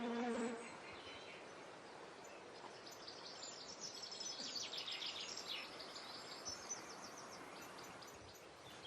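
Bees buzz steadily around geum flowers in a garden border, a close, wavering hum that drifts in pitch as they move, with a brief bird chirp at the start.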